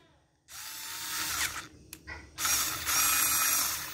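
A Deli mini battery-powered drill driver loosens a light bolt in electrical work. Two close, loud bursts of high whirring are broken by a brief stop and a click, with no voices.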